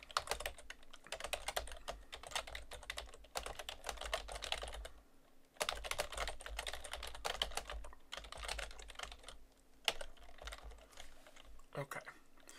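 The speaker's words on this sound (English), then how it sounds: "I'm going to write a piece of code, an if statement that's going to look a little confusing." Steady clatter of keystrokes on a computer keyboard as code is typed, continuous bursts with brief pauses near the mic, with no talking.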